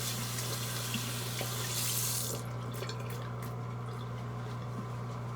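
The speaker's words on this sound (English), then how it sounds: "Rinse my hands off real quick." A bathroom tap runs steadily as hands are rinsed under it, a close, even rush of water with splashing that changes as the hands move through the stream.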